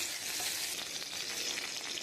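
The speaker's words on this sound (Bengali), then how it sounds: "আমার তেলটা গরম হয়ে গেছে, আমি আলুটা ভেজে তুলে রাখবো" Potatoes frying in hot oil, a steady close sizzle and crackle that holds evenly throughout with no voices over it.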